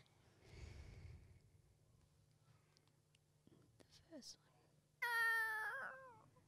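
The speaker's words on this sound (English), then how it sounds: "Kitten." Faint breathing and soft noises lead into a short, clear kitten meow near the end, fairly close and alone.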